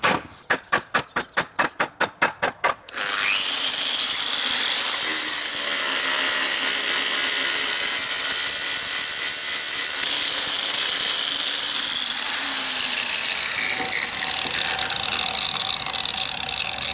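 An angle grinder cuts metal while an axe is being fitted with a handle, starting with a rapid series of sharp clicks, then a loud, steady, high-pitched grinding whine that holds for over ten seconds.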